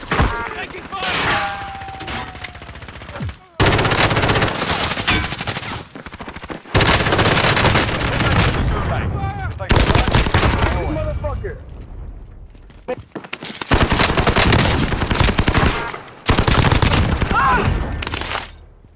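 Heavy gunfire in Call of Duty: Modern Warfare, with dense bursts of automatic fire and shots loud and close, broken by short pauses; players talk over much of it.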